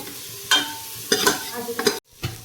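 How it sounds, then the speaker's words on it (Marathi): A spoon scrapes and stirs sprouts curry in a pan in a few quick strokes, with a soft sizzle of frying underneath. "चांगलं असं मिक्स करायचं"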